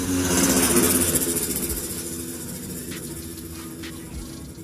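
A Honda CBR 250RR with an R9 H2 SS exhaust rumbles at a steady idle, loudest at first, then slowly fading and sounding somewhat distant.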